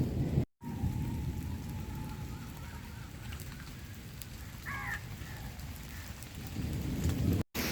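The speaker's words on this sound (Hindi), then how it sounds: "अचानक से बारिश तेज़ हो गई है" Heavy rain pours steadily in a village in southern Punjab, a dense continuous roar close by, with a low rumble of thunder under it and no talking.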